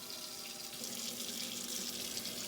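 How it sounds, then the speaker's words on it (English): Tap water runs steadily into a stock pot, a continuous hissing splash with a faint rising tone as the pot fills, heard alone without talk. "add a couple inches of water to the bottom of this stock pot"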